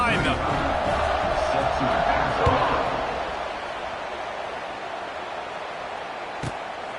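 A large college football stadium crowd roars and cheers steadily before a kickoff, a dense wash of noise that swells early and then settles, with a distant thump near the end.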